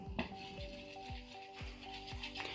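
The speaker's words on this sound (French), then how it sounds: "Je mélange déjà les deux préparations." A spoon scrapes and stirs a thick mixture of shower gel and glue in a bowl, with a steady series of wet swirling strokes close up.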